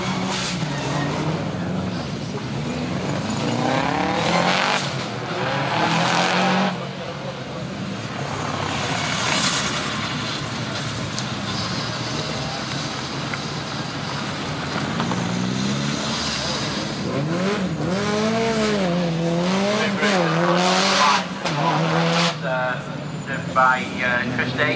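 A Group N rally car of Carlos Sainz and Luis Moya at the Race Retro show, engine revving and rumbling at moderate distance amid crowd noise, with someone talking over it throughout.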